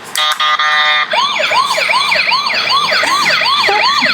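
A toy ambulance siren sounds up close and loud: a few quick electronic chirps, then a repeating wailing up-down sweep cycling several times in steady rhythm, with no voices over it.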